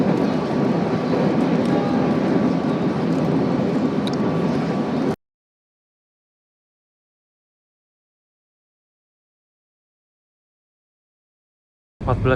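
A Pasundan passenger train in Indonesia rolls along with a steady, loud rumble for about five seconds, then the sound cuts to silence before a brief burst of noise returns at the very end.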